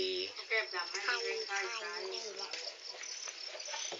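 Farmed crickets chirp densely and continuously close by, with a voice talking over them.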